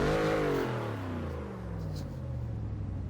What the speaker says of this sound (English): Let's go ahead and rev it up a little bit. See what it sounds like.